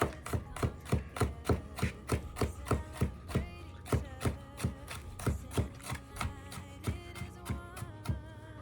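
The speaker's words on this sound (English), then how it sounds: "we're just going to finely dice it" A knife finely dicing a jalapeno on a cutting board, a steady run of sharp, close chopping taps in quick even rhythm, with no talking.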